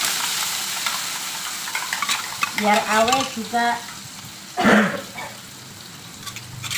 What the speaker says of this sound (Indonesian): Setelah tadi diulek, halus, dikasih bumbu, sekarang kita goreng lagi guys